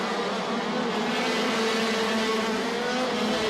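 KZ2 shifter racing karts scream past at full throttle during the WSK Champions Cup final at South Garda Karting in Lonato. A dense, constant, loud engine roar fills the whole stretch, with no voices.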